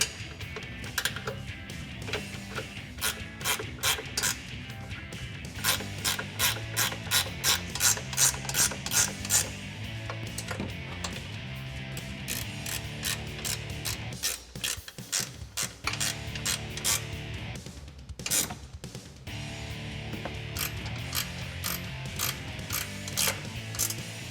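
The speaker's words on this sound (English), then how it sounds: "Now I'm going to take my 17mm ratcheting wrench, tighten up our 3 nuts on top that we started." A 17mm ratcheting wrench tightening nuts on a Ram 1500 two-inch front leveling kit, giving fast, loud runs of ratchet clicks that break off briefly and then start again.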